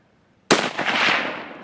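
One loud, sharp rifle shot fired at a 150-pound boar on a Texas hog hunt from about 150 yards cracks after a quiet moment, then rolls off in a long, echoing rumble.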